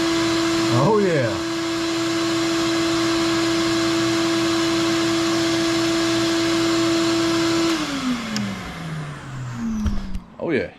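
Vacuum cleaner powered by a Jackery Explorer 1500 power station, a loud steady motor whine humming close up for several seconds, then winding down in falling pitch before brief handling noises.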